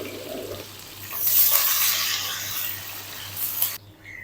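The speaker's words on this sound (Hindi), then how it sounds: "अब इसके अंदर ऐड करेंगे 2 मीडियम साइज के प्याज जिसको रफली मैंने काट लिया है।" Two roughly chopped medium onions hitting hot oil in a pan for dhaba-style aloo palak, a loud hissing sizzle that swells after the first second and holds steady before cutting off near the end.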